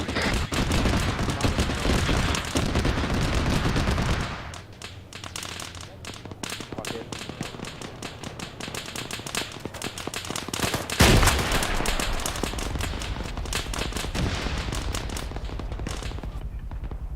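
Sustained gunfire from the military video game Arma 3, loud rattling bursts and shots running through the whole stretch with a brief quieter dip, while voices talk over the combat.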